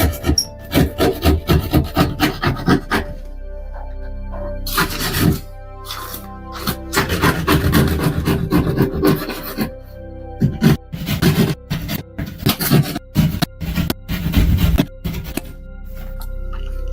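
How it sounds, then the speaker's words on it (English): A drywall saw rasps through painted drywall in quick scratchy strokes, loud and close, with short pauses between bursts of cutting. "keep your drywall saw level, meaning don't tilt it to the left or to the right"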